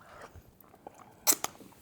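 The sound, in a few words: chewing and tasting freshly cooked Filipino-style garlic butter shrimp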